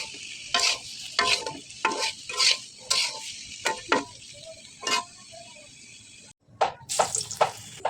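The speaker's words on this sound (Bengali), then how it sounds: "এদিকে আমি দুপুরের জন্য একটু ফুলকপির চপ ভেজে নিচ্ছি।" Cauliflower chops crackle as they fry in a pan, with repeated bursts of sizzling and scraping at an irregular rhythm and a short pause before the frying picks up again.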